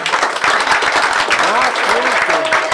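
Studio audience applause at a Quito AM radio program in Ecuador, a brief, loud burst of dense clapping with cheering and voices mixed in.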